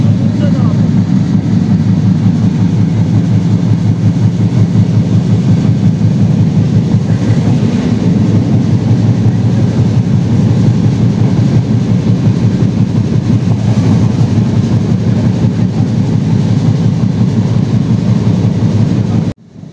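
Bangla express train (Jahanabad or Rupshi Bangla Express) running fast past Rupdia Junction, a loud steady roar of wheels and carriage rumble throughout, with faint talk beneath.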